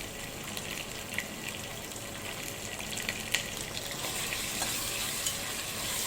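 Golden-brown onions with ginger garlic paste frying over a low flame, giving a steady, close sizzle and crackle that runs throughout with light stirring clicks.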